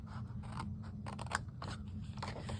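Scissors snip through paper while a craft card is trimmed, several quick, crisp close-up cuts in an irregular rhythm, with no talking.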